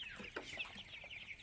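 Tiger chickens about 28 days old clucking softly in short, scattered peeps and clucks, faint and somewhat distant, with a steady hiss of background noise and no voices.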